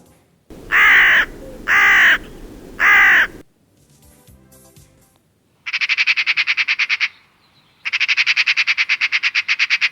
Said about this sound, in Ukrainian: Як розмовляє ворона?